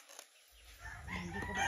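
Young farm chickens under three months old call in a brief burst that rises out of near silence partway through and carries on to the end, moderately close.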